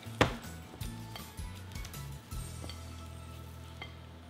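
Chocolate Swiss roll cake batter being mixed and folded gives soft scraping and tapping, with a sharp knock early and a few lighter clicks against the bowl, fairly quiet throughout with no speech.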